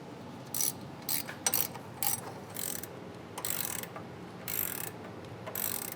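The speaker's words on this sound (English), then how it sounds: "So we've got our 21mm wrench on, and just finished tightening this up" Short bursts of ratcheting from a 21mm wrench tightening a bolt on a Bilstein shock on a Chevy Silverado or GMC Sierra truck, several quick clicking strokes with pauses between them, close and fairly quiet.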